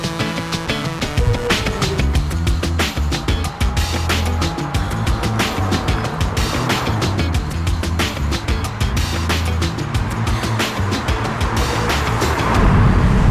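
Porsche 911 Turbo with twin turbochargers driving on the road, its engine a steady loud drone throughout, rising slightly near the end.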